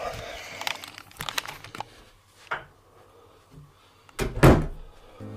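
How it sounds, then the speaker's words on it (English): A door is handled and shut indoors in a room with a coat rack, giving a few sharp thuds and rattles among scattered crinkling and handling noises, the loudest knock near the end. "And he keeps closing the door."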